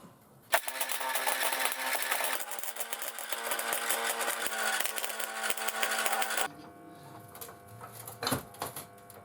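Tack welding on sheet metal for a homemade sheet metal roller: a harsh, crackling buzz runs for about six seconds, then cuts off, leaving faint clanks and workshop rattle.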